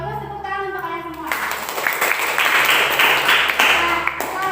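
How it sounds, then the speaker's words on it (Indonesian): Students applauding in a classroom, a broad burst of clapping starting after a brief voice and continuing steadily for several seconds at close range. "Terus tepuk tangan untuk kalian semua"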